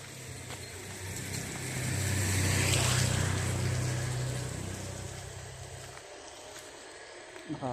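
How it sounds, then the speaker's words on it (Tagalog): Vehicles and motorbikes pass along a road beside a walking path on a commute home, one louder engine swelling and fading through the middle, with a steady broadband roadside hum throughout and a few brief knocks near the end. "Nakakailang yung mga dumadaan na ano, sasakyan, motor."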